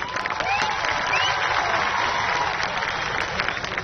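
Sustained, dense clapping from a large crowd at a Congress Navsarjan Yatra political rally in Kaprada, welcoming Ahmedbhai Patel. It holds steady and fairly loud for the whole stretch.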